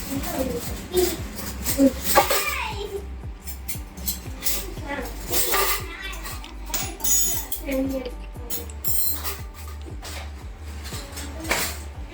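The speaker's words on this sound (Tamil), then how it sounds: "இப்போ வாங்க அடுப்பில் முண்டை சட்டி வச்சு சுட ஆரம்பிச்சிடுவோம்" A metal paniyaram pan is set onto a stove while preparing sweet corn cheese balls, with repeated clinks, knocks and scrapes of cookware close by, partly under a voice talking.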